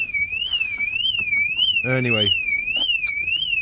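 Car security alarm on an auction vehicle with a dead battery, a loud, steady, warbling electronic siren that rises and falls in a regular cycle through the whole stretch, with a brief burst of speech over it midway.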